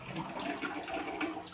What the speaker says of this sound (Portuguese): Daí vou puxar a descarga